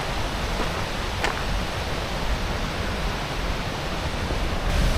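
Sutherland Falls waterfall roars as a dense, unbroken rush of broadband water noise that stays loud and steady throughout, close by and with no voices.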